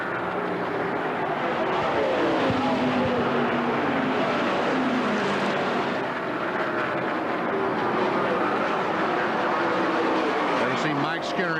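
NASCAR stock cars racing at the 1998 Brickyard 400 at Indianapolis, a steady loud roar of engines with Doppler-like sweeps as cars pass, continuous throughout with a commentator talking over it.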